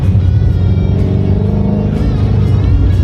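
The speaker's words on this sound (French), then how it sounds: "c'est en faux talon pointe, mais ça permet de remettre du gaz et de garder de la stabilité au rétrogradage" Shelby GT350 V8 on a race track, engine droning loud and steady with rising and falling revs as throttle is blipped through heel-toe downshifts, close and continuous throughout.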